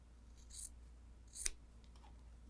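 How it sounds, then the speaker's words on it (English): Scissors snip fabric while trimming near stitching in a quilting project: two faint, brief cuts with a sharp click at the end, in a quiet room. "I just grab those scissors"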